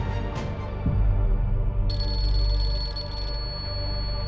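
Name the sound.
telephone ringing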